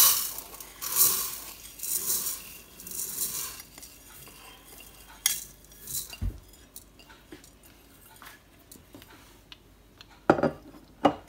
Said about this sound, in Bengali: আমি চালটা দিয়ে দিচ্ছি